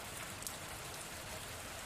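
Rain falls outside, a soft, constant patter and hiss at low level with an occasional slightly sharper drop, no talking.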